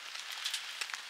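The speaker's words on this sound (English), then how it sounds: "You might be able to hear the rain on the tent outside," Rain pattering steadily on a hot tent during a January kayak fishing trip on Loch Etive, a faint, soft hiss with scattered brief drop ticks.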